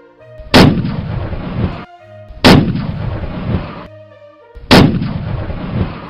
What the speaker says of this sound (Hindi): SSG कमांडोज स्नाइपर से दहशतगर्दों को निशाना बनाता है